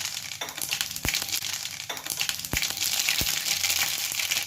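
Mustard seeds splutter and pop in hot oil, a close frying crackle broken by a few sharp isolated snaps.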